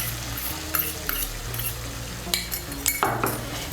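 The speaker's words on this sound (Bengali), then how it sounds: "4 মগজ বাটা আর কাজু বাদাম বাটাটাকে ভালো করে মিশিয়ে নেব।" A paste of melon seed and cashew is stirred into sizzling spices in a pan, with a spoon scraping and knocking on the metal in close, uneven strokes.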